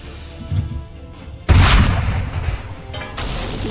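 In Assassin's Creed 3 Remastered, a loud, heavy cannon blast booms midway through, with a deep rumbling tail, over a background of scattered battle noise and earlier thuds.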